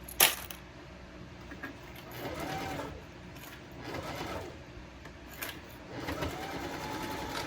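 A sewing machine back stitching on a blue bowler bag, running in several short close bursts of stitching with brief pauses between, after a sharp click at the start.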